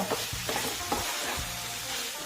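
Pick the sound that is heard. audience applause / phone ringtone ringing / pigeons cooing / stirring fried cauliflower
stirring fried cauliflower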